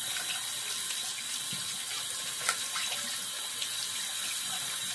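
Steady tap water runs and splashes as a shaving soap puck is rinsed, a continuous close hiss of flowing water with no voices over it.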